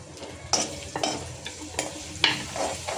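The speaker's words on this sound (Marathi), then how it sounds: "तर इथे आपलं तेलसुद्धा तापले, तर आपण याच्यात हा लसूण टाकूया, कढीपत्ते" Garlic and curry leaves sizzling in hot oil, a close crackling fry with several distinct stirring scrapes spaced through the clip, no speech.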